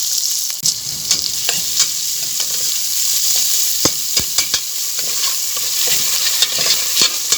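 Onions frying golden brown in cooking oil for chicken adobo, a loud close, steady hiss of sizzling with scattered pops and spoon stirring clinks throughout.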